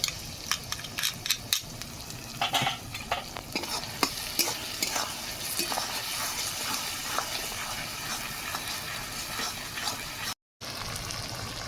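Chopped ginger and five cloves of garlic stir-frying in a pan, steady close sizzling with sharp scraping and stirring strokes, briefly cutting out near the end.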